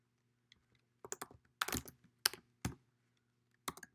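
Computer keyboard being typed on while writing R code for a ggplot2 plot, heard as scattered bursts of key clicks in a quiet room, with short clusters and pauses between them and no talking.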